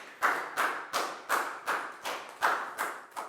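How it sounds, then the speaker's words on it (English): About nine distinct claps ring out in a steady rhythm during a Year 4 children's mathematics lesson, each sharp and close, with no talking in between. "High five and a big round of applause for Pangpon, please, guys."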